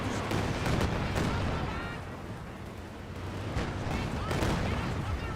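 Katyusha rocket barrage in Company of Heroes 2, a dense rolling cluster of booming blasts and crackling impacts with a few sharp peaks, continuous and loud.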